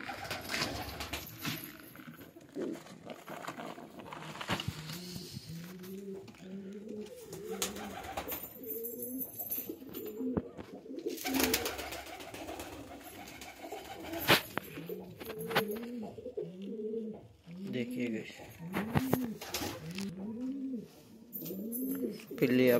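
Pigeons at a nest with a chick give steady, repeated throaty coos in a rolling rhythm, close and clear, over a background with scattered knocks and rustles.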